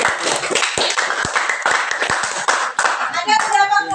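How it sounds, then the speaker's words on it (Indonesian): A classroom of students claps their hands together in quick, irregular bursts, loud and close, with children's voices chattering over the clapping toward the end. "Tepuk tangan dulu untuk kalian semuanya"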